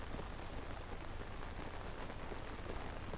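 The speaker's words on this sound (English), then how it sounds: "I love the sound of the rain on the paraglider." Rain pattering on a paraglider in The Legend of Zelda: Tears of the Kingdom, a soft, even, continuous pitter-patter hiss with no voices.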